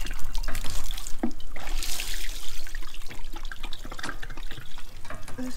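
Water runs and splashes from a fresh-water tap in Albufeira, a continuous trickle with bursts of spattering, fairly loud and uninterrupted.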